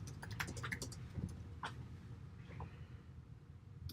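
Keys clatter on a computer keyboard in a quick, faint burst of soft clicks, over a low steady background hum, then trail off.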